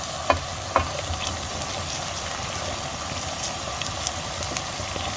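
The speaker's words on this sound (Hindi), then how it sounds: "अब ये देखें हमारी कैबेज, कैप्सिकम और अनियन जो है वो हम इसमें डाल देंगे और अच्छी तरह मिक्स करेंगे" Cabbage, capsicum and onion stir-fried in a pan for seafood chop suey, with a steady loud sizzle throughout and a few sharp clinks of a utensil against the pan, no voices.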